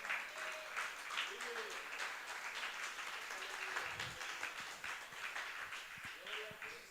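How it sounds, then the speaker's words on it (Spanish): A church congregation applauds God during a sermon, a faint, steady wash of clapping from many hands heard from a distance, with voices calling out over it. "¿Puede brindarle un fuerte aplauso a Dios?"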